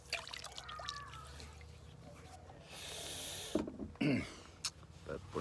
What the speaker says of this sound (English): so I got a bowl of water here, so we'll do this without running water